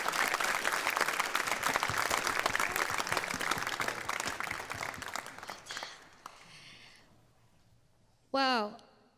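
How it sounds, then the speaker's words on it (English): Concert audience at a Chinese New Year show gives a dense, loud round of applause that thins out and fades after about six seconds, followed by a brief spoken voice. "Another round of applause."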